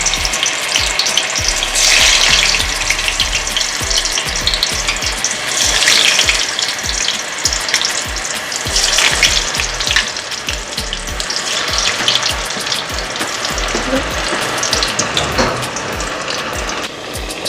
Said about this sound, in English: We're gonna add them into the pot because the oil is nice and hot.